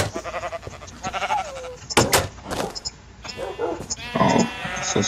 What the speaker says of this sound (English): We got our sheep here as well.